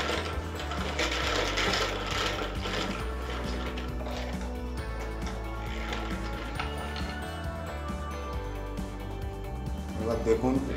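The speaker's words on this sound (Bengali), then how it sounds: "এবার দেখুন এটি মেশিনের সাহায্যে পাকানো হচ্ছে।" A machine twisting the bound thorns of a 12-thorn fishing jhupi made for catla, running with a continuous mechanical whir and rattle from close by, with a voice talking over it.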